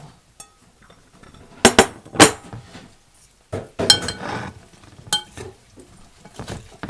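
Vegetables for a salad with dumplings, onion and large chilies are tossed with utensils in a dish, giving intermittent close clinks and scrapes in scattered bursts.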